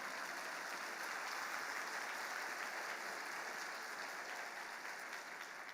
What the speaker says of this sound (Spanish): Un aplauso por el Señor.